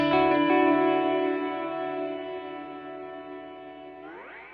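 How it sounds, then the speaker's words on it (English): A guitar note or chord run through an Eventide Blackhole reverb pedal set to a very small size with no modulation, ringing out with a short, delay-like repeating tail that fades steadily over a few seconds before a brief pitch-bending swell. "this one has no modulation and very small size, which really adds to that delay type sound."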